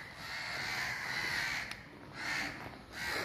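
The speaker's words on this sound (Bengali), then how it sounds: "এই যে পাখি দেখেন, পাখিরা ক ক করে ডাকছে।" Crows cawing at a quiet, nearly deserted railway station, several drawn-out calls rising and fading over a soft background hiss, moderately distant, with no one talking.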